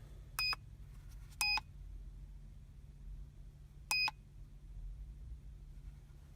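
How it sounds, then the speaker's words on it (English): An OBDII scanner beeps while scanning a 2004 Jeep Grand Cherokee: three short, clear electronic beeps at irregular intervals over a quiet, low hum. "check on your car"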